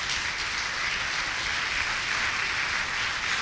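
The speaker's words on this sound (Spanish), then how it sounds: "Dale un aplauso fuerte al Señor." A church congregation claps loudly and steadily, a dense wash of applause filling the whole stretch without pause or speech.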